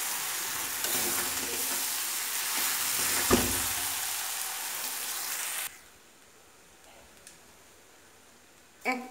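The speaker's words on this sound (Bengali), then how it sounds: "এক চামচ পরিমাণ ঘি দিয়ে দিব। দিয়ে ভালোভাবে নাড়াচাড়া করব।" Jackfruit curry with ghee stirred in a pan, a loud steady sizzle with scraping for about six seconds before it cuts to near silence with a few soft clicks.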